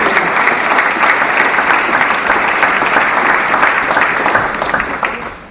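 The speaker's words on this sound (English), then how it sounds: "You can clap." Loud, continuous applause fills a hall at a school production of A Midsummer Night's Dream, a thick wash of clapping hands from a sizable audience that tapers slightly at the end.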